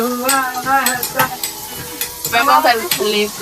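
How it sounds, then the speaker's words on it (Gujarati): Whole spices tempering in hot oil sizzle and crackle close up as they are stirred, with a steady hiss broken by sharper pops and some tonal overtones riding on top. "ખાલી મારે વઘાર જ નાખવાનું છે"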